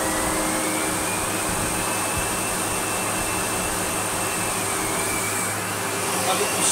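A Sebo X1 commercial upright vacuum cleaner runs with a steady, loud motor whine and airflow roar, its pitch shifting slightly as the machine is reclined; someone talks over it.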